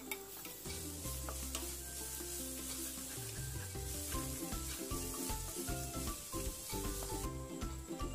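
Onion sizzles steadily in a hot pan with ginger garlic paste for a restaurant-style mushroom masala curry, as a spoon stirs and scrapes throughout under a continuous frying hiss and no one talks.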